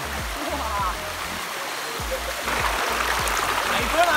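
Fresh, cold stream water flows steadily on a trip to Meghamalai near Kambam, a continuous broadband rush with splashes, while low voices murmur and thumps sound close by.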